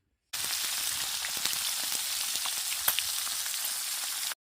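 Masala-coated fish fries in hot oil with a dense, even sizzle and crackle from start to finish, close and moderately loud, with no speech.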